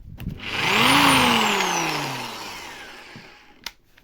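A Vitals ET21200G electric drill spins up in drilling mode with a loud rising whine, then coasts down slowly after release, its pitch falling as the motor winds down, with a faint click at the end.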